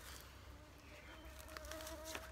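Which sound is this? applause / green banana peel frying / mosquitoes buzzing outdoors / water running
mosquitoes buzzing outdoors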